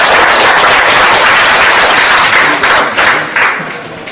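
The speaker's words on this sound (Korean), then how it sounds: "큰 박수 부탁드리겠습니다." Loud, dense applause from an audience at a political party's provincial founding convention in Gangwon, a steady roar of many hands that thins slightly toward the end.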